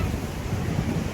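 Sea waves washing onto the beach at Puri in the early morning, a brief low rumbling surf heard close with wind buffeting the microphone.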